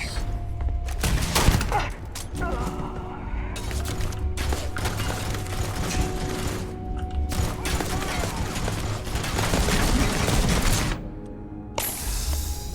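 Rapid bursts of gunfire in the space game Starfield, dense crackling volleys that come and go over several seconds with brief pauses and mechanical clatter between them.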